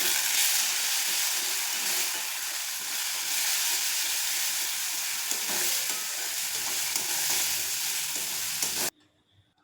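Ground spices with chopped chilli, cumin, coriander, turmeric, chilli powder and salt sizzle and fry in a pan for a fish egg curry, a steady loud hiss with stirring scrapes throughout, cutting off abruptly near the end.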